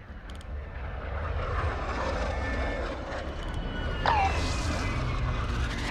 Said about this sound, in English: Is he running the heli?